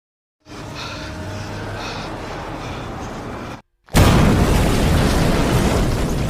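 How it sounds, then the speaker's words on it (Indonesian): A sustained roaring rumble, then a brief cutoff before a much louder, broad blast of explosive noise that holds steady to the end. "Inspektur Yazaki meledak bersama tubuh yang tak bernyawa tersebut."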